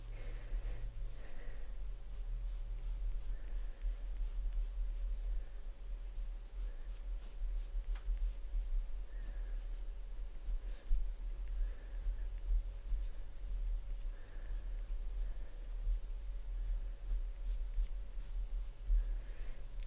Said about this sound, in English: So I'm just lining out those black lines, just deepening.